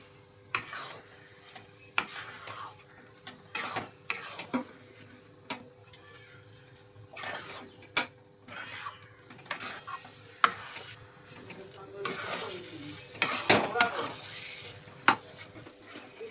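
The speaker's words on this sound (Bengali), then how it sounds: "মটরশুঁটিটা ক্রমাগত নাড়তে থাকবো।" A spoon scrapes and stirs green peas in a pan in sharp, irregular clacks and scrapes, with a faint sizzle underneath, fairly quiet and close, no talking.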